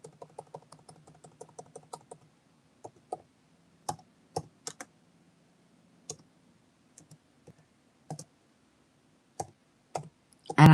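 Someone types one-handed on a computer keyboard, giving sparse, irregular, quiet clicks and taps separated by pauses, with a faint low hum underneath.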